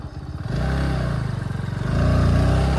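An off-road motorcycle on a group ride labors up a slope toward a railway track, its engine chugging loudly and close, then revving harder near the end amid rattling and scraping.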